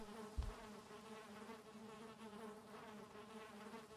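Bees drone around a beehive in the survival game Valheim, a steady insect buzz with a low hum underneath and one brief knock near the start.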